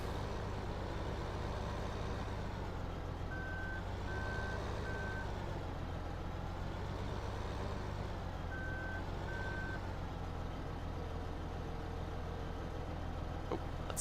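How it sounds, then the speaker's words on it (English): Large tractor in Farming Simulator 15 backing up, its reversing alarm giving short evenly spaced beeps over a steady low engine drone, with no talking. "Definitely tell this is a much larger tractor."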